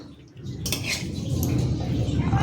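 Chicken is stirred in a metal cooking pot for chicken pata, with close scraping and clattering of a utensil against the pot that grows denser toward the end.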